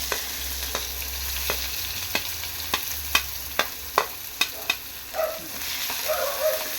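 Onions and green chilies fry in a pan for brinjal upperi, a steady hiss broken by regular sharp taps of a spatula against the pan and a brief burst of crackle near the end.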